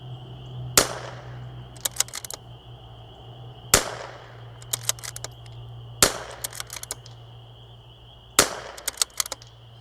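Four sharp, loud precision rifle shots ring out at target practice, spaced a few seconds apart, each followed by quick clattering echoes over a steady background hum.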